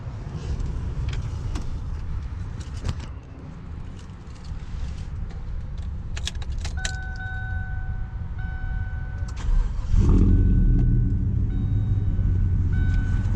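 A Chevy Silverado pickup with aftermarket exhaust cranks and catches near the end, a sudden deep rumble rising out of low background noise and settling into a steady idle.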